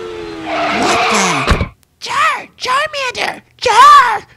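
A cartoon car skids in with a screech of squealing tires in a Pokémon parody battle, loud and sustained for over a second, followed by an abrupt thud and then animated character voices talking.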